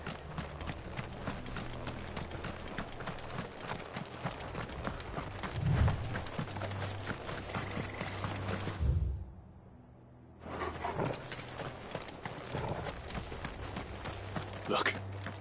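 Horses gallop in Final Fantasy XVI with a steady, close clip-clop of hooves and some swishing movement. The hoofbeats drop out briefly near the end, then resume.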